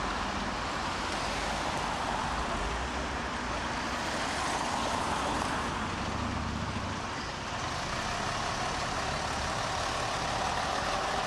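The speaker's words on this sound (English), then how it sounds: "It's the same RF departing the bus garage." An AEC Routemaster RF bus pulls away from the Potters Bar bus garage on an open day, its engine a loud, steady broadband rumble that holds throughout with no voices.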